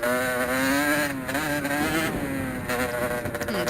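A trail motorcycle engine held at high, wavering revs during a wheelie on a trail ride, loud and close with pitch dipping and rising through throttle changes.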